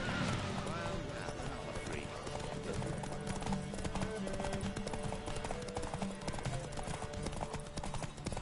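Horse hooves gallop in The Witcher 3, a fast, steady clip-clop that runs throughout under wind and music, with a voice shouting over it.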